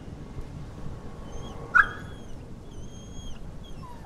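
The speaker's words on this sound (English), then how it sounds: "This dog is a little bit curious." A curious dog on a street in the Meadowmere neighborhood of Queens near JFK gives a short whimper or yip at moderate distance, over steady outdoor background noise, with no talking.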